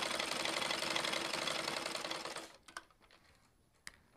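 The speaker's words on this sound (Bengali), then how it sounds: "দেখেন এখন যত মোটা সেলাই দিব, মানে সুই যত মোটা কাপড়ই দিব কিন্তু সেলাই হবে" A sewing machine fitted with a size 18 needle stitches fabric in a steady, rapid, continuous run for several seconds, then stops, leaving a few faint clicks.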